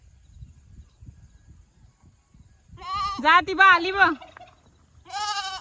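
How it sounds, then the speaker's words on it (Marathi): A goat belonging to a neighbour bleats in a village near Trambakeshwar, giving a long wavering bleat up close and then a shorter one, with people talking quietly before and between the calls. "ये बकरी बघ ना, यमुनाची बकरी आली."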